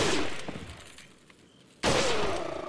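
Rifle gunshots in Resident Evil 4, one sharp loud blast at the start that decays, then a second abrupt, louder report near the end, with a quieter stretch between.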